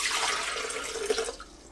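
Water poured into a Breville Fresh & Furious blender jug for a green smoothie, a steady close splashing pour that runs through the whole moment, alone with no talk.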